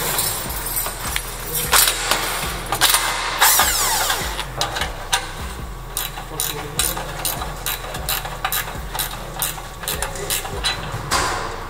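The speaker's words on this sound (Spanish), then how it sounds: "Que empiece la fiesta de intentar aflojar estos tornillos oxidados" Rusted bolts on a Nissan 350Z exhaust being loosened with a power tool, sharp bursts of clattering, buzzing mechanical noise and ratcheting clicks, close and loud over steady background rumble.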